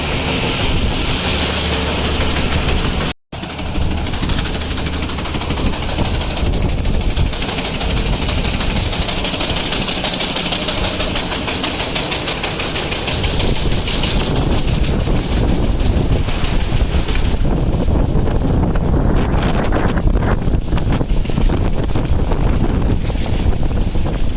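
Loud, strong wind buffeting the microphone atop a grain bin on a farm, continuous roaring gusts that swell and ease. No one speaks.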